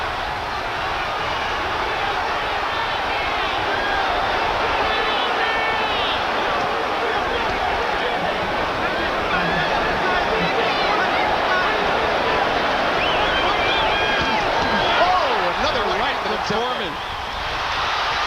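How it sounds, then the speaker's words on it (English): A boxing arena crowd at the 1991 Holyfield–Foreman heavyweight fight roars steadily as Foreman scores, a dense sustained wall of cheering and shouting, with a commentator talking over it throughout. "The crowd going nuts here seeing Foreman score"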